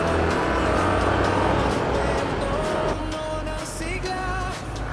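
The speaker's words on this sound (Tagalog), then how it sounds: "Tricycle." A motorized tricycle rumbles past on a road, its engine loud and close at first and then easing off as it moves away, with other road traffic noise around it.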